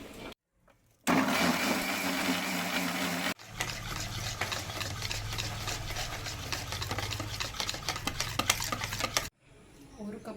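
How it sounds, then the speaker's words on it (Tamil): A mixie jar grinds plum cake ingredients in two bursts: a harsh, loud whirring spin of a couple of seconds, then a longer, lower churning grind of about six seconds, separated by brief quiet stretches. "அதனால் நான் வந்து மிக்ஸி ஜாரில் போட்டு அடிச்சேன்னு வைங்க"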